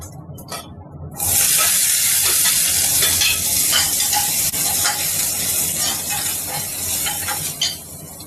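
Chopped onion drops into a hot pan after chilies for a turkey berry pachadi, then sizzles loudly and steadily while a utensil stirs and scrapes through it with irregular strokes.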